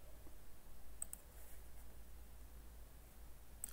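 Computer mouse clicks while selecting corners in Autodesk Inventor: a couple of faint, sharp clicks close together, then a lone click at the end, over quiet room noise.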